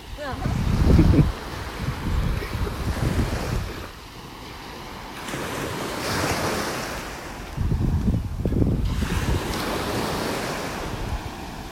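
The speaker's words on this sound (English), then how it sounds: "See how the waves tend to pick up as we get up to this part of the park, up to this part of the beach?" Ocean surf breaking on a North Naples, Florida beach, a loud rolling wash rising and falling in broad surges with heavy wind buffeting the microphone.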